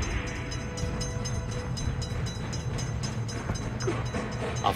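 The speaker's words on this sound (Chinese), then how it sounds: "中间我听到有火车经过的声音" A train passes with a steady, loud rumble and rhythmic rail clatter running continuously throughout, with no voices.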